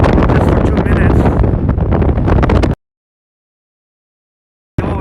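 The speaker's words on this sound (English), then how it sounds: "Oh, it is windy." Heavy wind buffets the microphone with loud rumbling roar for nearly three seconds, then cuts to silence before the gusts return briefly, outdoors in downtown Toronto.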